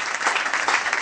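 A church congregation at a youth meeting applauding: a dense, steady wash of clapping from many hands, loud and continuous for the whole brief moment.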